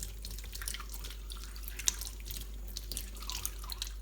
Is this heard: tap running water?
yes